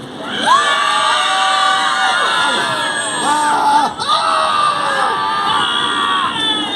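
A large carnival audience at Thorpe Park cheers, screams and shouts together continuously, loud and close, with high whoops rising over the roar.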